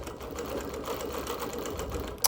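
Sewing machine running continuously during freehand quilting of leaves and roses, a steady fast needle chatter at moderate volume ending with a sharp click.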